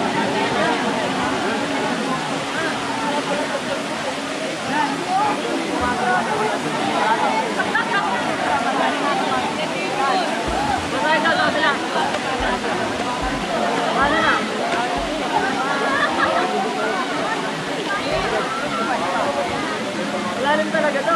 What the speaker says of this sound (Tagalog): ito po yung falls